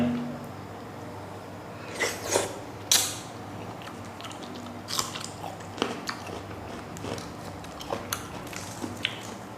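Crunchy mantis shrimp marinated in fish sauce being bitten and chewed, with a few sharp crunchy bites early on followed by softer, scattered chewing clicks at close range.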